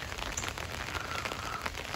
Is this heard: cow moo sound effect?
no